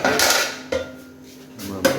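A metal stand is set down inside a heated cooking pot while a cheese-free pizza is being made, giving a couple of distinct metallic clanks and clatters over a short stretch, fairly close and with no talking.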